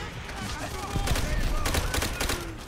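Rapid gunfire bursts in Call of Duty: World at War, a dense volley of close shots crackling over a steady noisy battlefield background.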